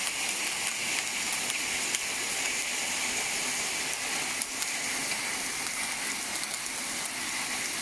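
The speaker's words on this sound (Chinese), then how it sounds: "啊，这是冰雹呀，你看下面这个一粒粒的冰雹啊，" Hail mixed with sleet pelts the ground outdoors in California on a Lantern Festival night. It makes a steady, dense hiss scattered with tiny clicks of impact, constant and fairly loud with no voices.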